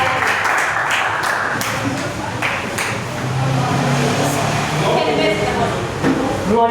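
Church congregation clapping for Jesus during a worship service, a dense, steady wash of many hands with raised voices mixed in throughout.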